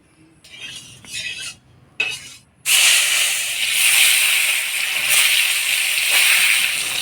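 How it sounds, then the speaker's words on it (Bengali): Fish laid into hot oil in a pan bursts into loud, continuous sizzling and hissing after a few quieter kitchen clinks and rustles, holding strong to the end with no talking. "এবার মাছগুলো ভাজা বসাই দিব"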